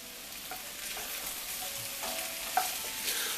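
Acorn squash with onion, garlic and ginger sizzles steadily in a pan, a bright, constant frying hiss with faint scrapes of stirring.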